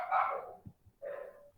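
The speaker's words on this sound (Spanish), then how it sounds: "Deja ver si puedo calmar a los pinches perros." Two dog barks, a sharp loud one followed by a second after a short pause, fairly close with no talking.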